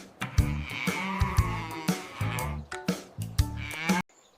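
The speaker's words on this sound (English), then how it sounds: "The cow greets them with a gentle moo." Cartoon cow mooing on a farm, a series of loud, close, drawn-out moos in a steady rhythm that stop suddenly near the end.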